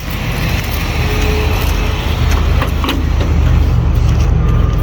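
An old car nicknamed Edna, stranded after a breakdown, has its engine cranked and running as a steady, loud low rumble throughout, with broadband noise and no clear pauses.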